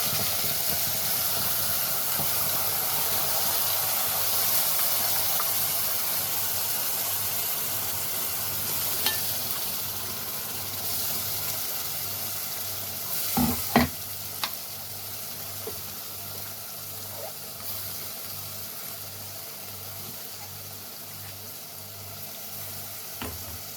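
Ground onion paste sautéing in a pan with seaweed while cooking mutton gravy, a steady soft sizzle and hiss running throughout with a few brief stirring clinks partway through.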